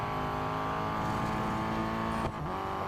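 Race cars in Real Racing 3 overtaking back markers on a final lap, a loud sustained engine drone with layered tonal whine, a brief dip and shift in pitch as one car is passed, no talk.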